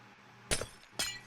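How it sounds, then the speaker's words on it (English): Two short crisp glassy clicks of glass blocks being placed in Minecraft, spaced about half a second apart, quiet and with nothing else around them. "You're going to place glass around the outside like this."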